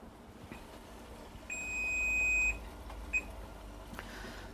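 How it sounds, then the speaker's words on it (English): A kitchen timer beeps while vegetables cook in a covered pan: one sustained electronic tone of about a second, then a second short beep, loud and close over low kitchen background noise. "So our timer has gone off again."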